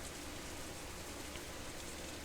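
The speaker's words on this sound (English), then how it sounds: "I find the rain outside sweep against the window loudly" Rain sweeping against a window in the visual novel Katawa Shoujo, a soft, constant wash of falling water heard from indoors, low and unvarying, with no voices over it.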